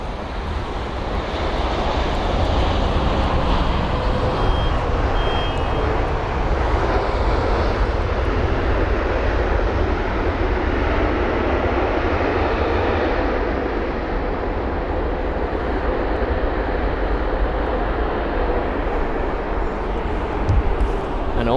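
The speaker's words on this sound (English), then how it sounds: "the Swiss A220-100 is indeed going to be holding just before runway 27 right for a departure" A Swiss Airbus A220-100 holds just short of runway 27 right at London Heathrow before departure, its jet engines giving a steady, loud, broadband roar that stays even for the whole stretch.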